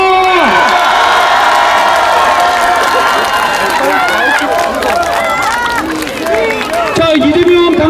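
A dense crowd at a Democratic Party rally by Lee Jae-myung outside Geumneung Station in Paju cheers and shouts continuously, loud and close, with whoops and overlapping voices throughout.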